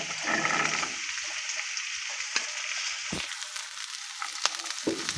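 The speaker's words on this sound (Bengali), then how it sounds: "আমি এবার পেঁয়াজ কলিগুলো দিয়ে দিচ্ছি এবার দিয়ে দিব বরবটি আর গাজর" Onions, green beans and carrots frying for Schezwan fried rice, a loud burst of sizzling at first that settles into a quieter crackle broken by a few sharp scrapes and clatters of stirring, close up with no speech.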